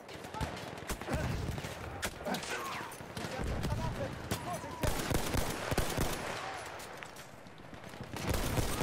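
Battlefield 1 gunfire, a scattered run of sharp shots and bursts of varying distance over busy battlefield noise, with a voice talking underneath.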